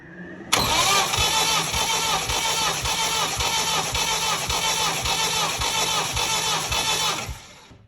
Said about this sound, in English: I'll start moving those out and do a compression check.